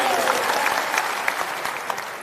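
Loud, dense applause from a crowd at a public meeting, a steady wash of clapping that carries evenly from start to end with a few sharper claps poking out.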